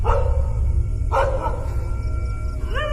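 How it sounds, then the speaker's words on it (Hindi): A dog barks from inside a building in the video game Rust, in repeated loud yaps over a steady low rumble, with a sharper burst of barking partway through. "अंदर से कुत्ते की भौंकने की आवाज आने लगती है"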